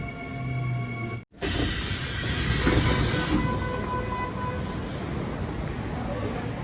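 A Seoul subway train rumbles and hisses loudly, with a brief cutoff early on, then a steady roar of the moving car and faint voices.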